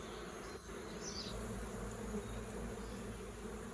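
Honey bees swarm around an open beehive, a steady low droning buzz from many insects close by, with occasional individual bees passing nearer, no talking.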